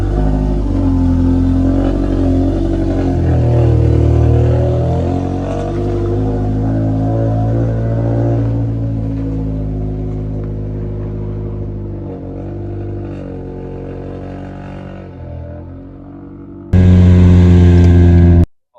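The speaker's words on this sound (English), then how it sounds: "get in the Mondeo, head over there" A Ford Mondeo car drives steadily with a loud, continuous engine drone that shifts pitch as it moves, then cuts abruptly to a louder burst near the end.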